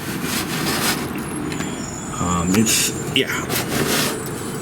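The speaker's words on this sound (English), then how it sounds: "You can hear the garbage truck out there." A garbage truck idles and rumbles outside at a distance with a brief hiss of air brakes, under a steady indoor background, with a voice speaking briefly.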